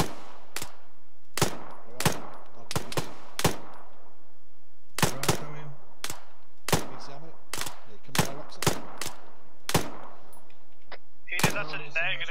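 Sharp, separate suppressing gunshots from Arma 3 during a night firefight, fired singly and in quick doubles every second or two, each crack loud and close with a short echo tail.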